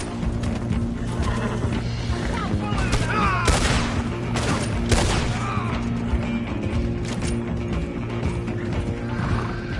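Horses neigh and whinny repeatedly in a cowboy western game, loud and close, over a rumble of hooves and rattling tack, with a few sharp bangs cutting through the mix.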